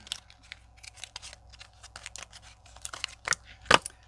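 Scissors cutting through a small sticker safety seal on a makeup product, a quick series of close, crisp snips ending in one sharper cut, with no talking.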